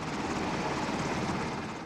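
Military helicopter flying, a steady broadband rotor and engine roar held evenly throughout, moderately loud with no voices.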